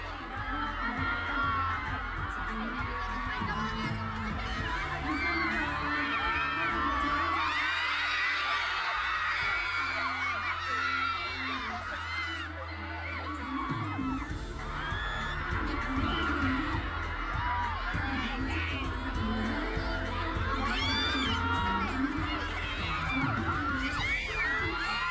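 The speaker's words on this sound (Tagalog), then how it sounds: "Grabe yung sigawan" A loud crowd of fans screams and cheers nonstop during a Kaogma Festival performance, dense shrill voices sustained throughout with no pause.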